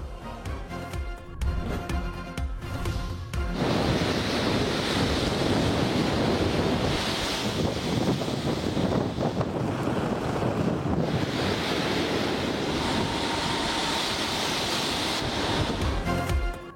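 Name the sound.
storm waves and wind on coast from Cyclone Biparjoy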